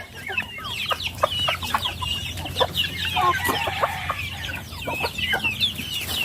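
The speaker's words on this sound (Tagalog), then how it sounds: "Ito na yung mga unang sisiw." Chicks and chickens on a rural Philippine farm cluck and peep continuously at close range, with many overlapping short calls and no talking.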